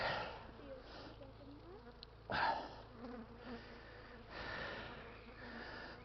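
Stinging insects, bees or wasps, buzzing close around a person outdoors, a steady droning hum with louder passes, heavy breathing and a sharp gasp.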